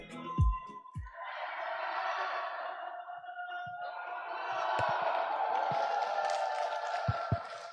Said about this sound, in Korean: 용봉동에서 오신 분들 함성 한번 질러보세요